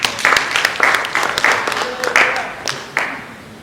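Audience at an investment masterclass in Matadi breaking into loud applause with cheering voices mixed in, rhythmic clapping bursts swelling and fading across the moment.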